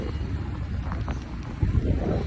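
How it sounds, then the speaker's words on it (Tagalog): Strong wind buffets the microphone with a low, blustery rumble, gusting harder toward the end. "ang hangin po dito ngayon, sobrang mahangin"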